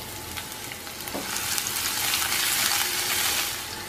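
One teaspoon of cumin seeds frying in two tablespoons of hot oil in a kadhai: a loud, continuous close crackling sizzle that swells and stays steady, with no voices.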